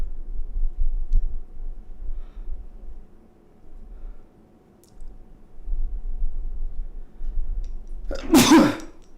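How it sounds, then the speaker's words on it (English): A single loud, sharp sneeze near the end, after a stretch of quiet low rumbling room noise. "Excuse me, I gotta sneeze."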